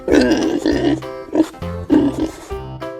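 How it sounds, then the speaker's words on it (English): A pig gives a run of close, loud grunts in several short bursts with brief gaps between them. "Pig."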